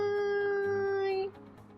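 A long, steady, tonal meow-like cry from a cat, held clearly for about a second before cutting off, over quiet background noise.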